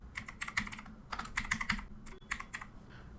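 Quick bursts of keystrokes rattle on a computer keyboard at close range, typing in short clusters separated by brief pauses, fairly quiet and alone.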